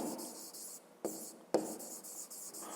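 Pen writing by hand on paper during a fifth-grade maths exercise, steady scratchy strokes broken by two short taps, close and fairly quiet with no talk.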